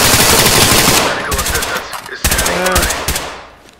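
Rifle fire from the tactical shooter game Ready or Not cracks out in rapid, loud, close bursts with short gaps between volleys. A faint voice can be heard briefly near the end.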